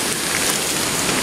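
Steady, dense rain falls on the trail to Chuveje waterfall in Sierra Gorda, Querétaro, a loud, even wash of pattering drops with no other sound.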